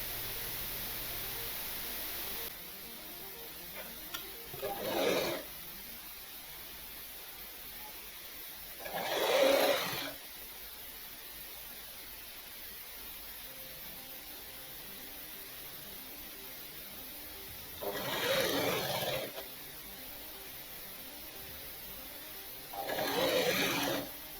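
A sewing machine stitches a blouse in four short bursts of a second or two each, spaced apart by quiet pauses, a close, fast whirring rattle over a faint background hiss.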